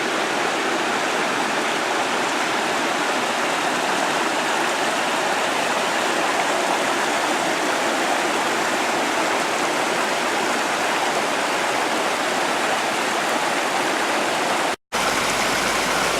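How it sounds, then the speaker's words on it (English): Mountain stream along the Roaring Fork Motor Nature Trail in the Great Smoky Mountains near Gatlinburg, Tennessee, rushing in a steady, full roar of running water that stays constant, broken only by a momentary dropout near the end. "Just love hearing that water run."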